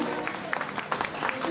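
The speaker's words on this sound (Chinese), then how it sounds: "掌声欢迎他一下。" A small live audience at a jazz studio's seventh-anniversary show claps to welcome a saxophone player, a brief patter of scattered hand claps over a low room murmur.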